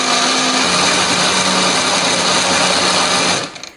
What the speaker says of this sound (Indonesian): semua bahan ini akan kita haluskan ya, termasuk lengkuasnya akan kita haluskan